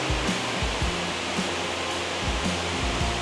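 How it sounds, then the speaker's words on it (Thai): Dai Chong Thong waterfall at Sangkhla Buri roars as a dense, constant wash of falling water, loud and close, with no voices over it. "ผมจะพาตัวเองกับท่านผู้ชมเดินไปทางใกล้ๆน้ำตก"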